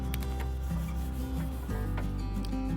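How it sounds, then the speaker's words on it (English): An old, flaking sticker is scraped and peeled off the stainless steel table of an old DeWalt DW734 planer, giving a steady close rubbing and scratching with a few sharper ticks, no talk. "removing this sticker that's been flaking away"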